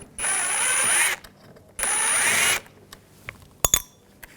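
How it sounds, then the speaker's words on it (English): Power driver with a T20 socket removing a screw from a 2021-2023 Jeep Grand Cherokee L front seat, two loud whirring bursts of about a second each, followed by faint clicks and a sharp tap. "use a T20 socket, take this screw out"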